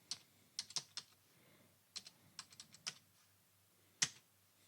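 Quiet computer keyboard typing of a password in short uneven bursts of crisp clicks with brief pauses, ending in one firmer keystroke, heard alone with no talk.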